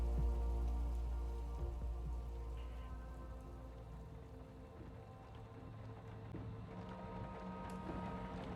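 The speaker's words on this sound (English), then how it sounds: "The rain came down quite excessively that darkened evening in Seattle," Heavy rain falls on a dark evening in Seattle, a faint, steady patter of drops on surfaces that holds evenly throughout without any voices.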